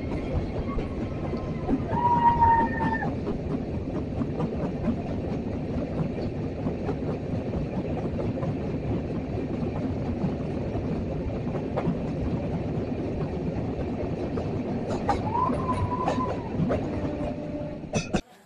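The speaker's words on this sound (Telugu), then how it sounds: "ఐ థింక్ మన ట్రైన్ జర్నీలో లాస్ట్ టన్నెల్ వెళ్ళిపోయింది అనుకుంటా" A train on the Araku rail journey rumbles steadily through a tunnel, a constant dense roar with faint clatter and brief squealing tones, close and loud throughout.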